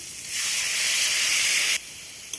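Hot water hits a hot pan of teasel gourd and fried prawns, producing a loud, close, steady steam hiss lasting over a second before it cuts off abruptly.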